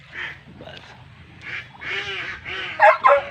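Several nasal duck quacks sound close by at a concrete fishpond in short bursts, with a couple of louder quacks near the end over a low background murmur.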